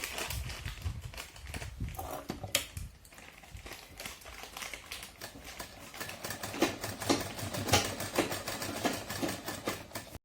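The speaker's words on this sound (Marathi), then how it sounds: "तर बघा अशी शिलाई मारून घेतली टिप" A sewing machine stitching a fish-cut sleeve, running continuously up close with a fast rhythmic mechanical clatter that rises and falls slightly in speed.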